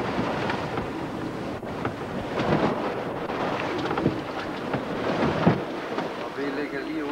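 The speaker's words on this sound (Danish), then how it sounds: "Det blæser 7-8 sekundmeter." Strong wind of 7-8 metres per second roars across the microphone aboard a sailing boat racing offshore around Denmark in 1996, with waves splashing against the hull. Steady and loud throughout, with talk mixed in underneath.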